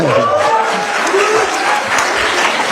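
A studio audience at an Indonesian political talk show breaks into sustained applause, a thick, even wash of clapping throughout, with a voice briefly audible over it at the start.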